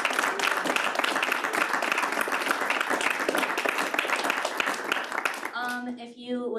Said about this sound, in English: let's give our panels some applause